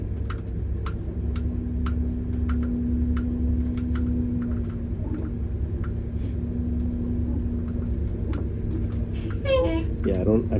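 Car tires rolling over gravel during a test drive of a vehicle with a suspect rear end, a steady low road rumble with small ticking stone crackles, and people talking inside.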